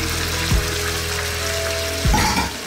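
Water is poured into flour for palabok sauce in a home kitchen, a steady, close, hissing stream over a low hum, with two short splashy surges.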